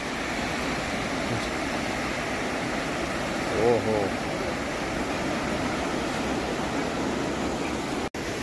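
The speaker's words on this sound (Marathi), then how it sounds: "लाटा बघा तुम्ही" Sea waves at Shrivardhan beach make a continuous, even wash of surf, with a voice briefly calling out over it.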